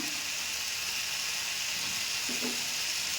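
Fried hilsa pieces drop into a simmering curry with potatoes, and a steady loud sizzle and hiss of frying fills the whole stretch, with a few faint stirring bumps and no voices.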